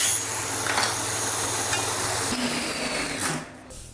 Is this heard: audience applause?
no